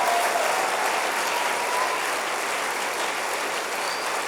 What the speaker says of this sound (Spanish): Le das un aplauso al Señor por eso